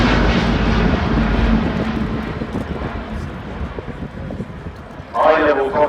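An Airbus A350-1000 airliner flies a demonstration pass at the Farnborough International Airshow. A loud, steady jet engine roar fills the clip with wind buffeting on the microphone. A commentator talks over it, and the engine noise swells near the end.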